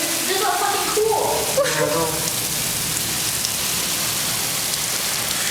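Heavy rain pouring during a hurricane, a dense, steady hiss of downpour on surfaces close by, with brief tonal background sounds early on and no clear talk.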